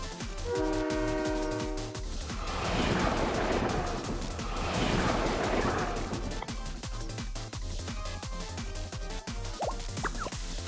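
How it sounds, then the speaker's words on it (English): A bullet train in the video game Blue Archive runs steadily with a loud continuous rumble and rolling rail noise, a horn-like tone sounding near the start, under a musical background. "This is like actual bullet trains."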